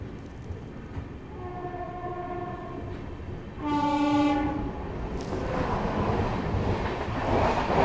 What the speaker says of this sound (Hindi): देखो बगल से कोई ट्रेन की क्रॉसिंग हो रही है